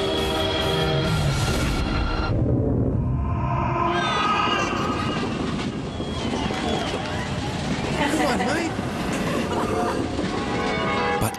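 A train rolls past loudly at close range, a continuous heavy rumble and rattle of cars with a steady roar, and a horn-like tone at the start, while a voice speaks over it.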